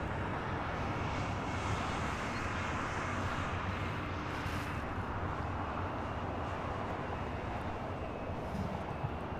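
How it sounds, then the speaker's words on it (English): A China Airlines Cargo Boeing 777 freighter taking off from Los Angeles International Airport, its engines a steady, broad rumbling roar at a middling distance, holding level throughout. "This is China Airlines Cargo 5137 taking off to Taipei on a 777 freighter."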